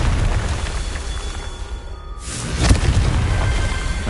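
A Confringo fire spell bursts in Hogwarts Legacy, a loud rumbling boom with a sharp hit near the middle that rolls on into a sustained roar over a dense game background.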